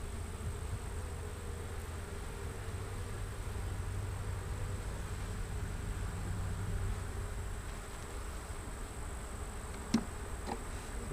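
Honeybees in a small nuc hive with few bees inside give off a faint, steady buzzing drone, broken by a brief knock near the end.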